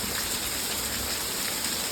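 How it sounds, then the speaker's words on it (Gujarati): Heavy rain pours down steadily in a dense, unbroken hiss of drops hitting surfaces, loud and close, with no voices. "વરસાદ ચાલુ થઈ ગયો ડાયરેક્ટ જો કેવો પડે જો ઘટે નહીં એવો પડે છે વરસાદ"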